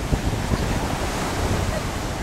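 Ocean waves wash up on a Hawaii beach in a steady close rush of surf, with wind buffeting the microphone.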